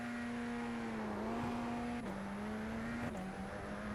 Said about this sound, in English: So all I'm going to do now is build up the revs,